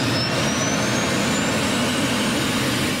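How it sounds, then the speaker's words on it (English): A powerful turboshaft engine roars steadily at close range, a broad rushing drone with a faint high whine rising over it. "hearing and feeling the sheer power of a turboshaft engine"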